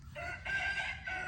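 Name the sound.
rooster crowing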